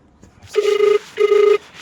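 A phone rings during an outgoing call, two even electronic ring bursts with a short gap between them, clear and close.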